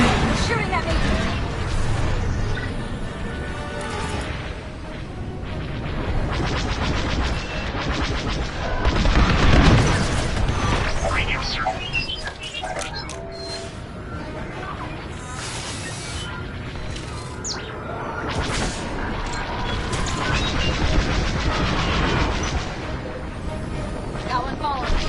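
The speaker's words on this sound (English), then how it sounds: "They're shooting at me!" Star Wars: Squadrons starfighter dogfight with blaster fire and booming impacts running steadily throughout, dense and loud under continuous engine roar, with voices talking over it.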